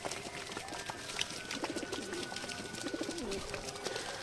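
Pigeons in a breeding loft coo softly and repeatedly in low, rounded calls over a constant busy background of rustling and wing shuffles, with no talk.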